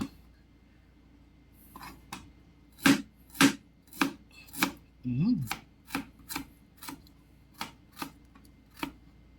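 Ginger being pounded and crushed for a beef tripe dish, a series of sharp, close knocks in an uneven rhythm, some louder than others, with no talking.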